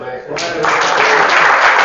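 Audience applause at a French presentation of the compact Slim 400 telescope, clapping rising quickly out of a speaking voice and swelling to a full, close burst of applause.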